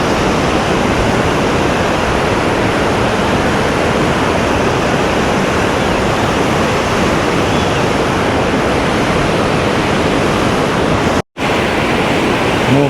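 A river in Banff National Park rushes loudly and continuously, a dense, unbroken roar of water close by with no voices.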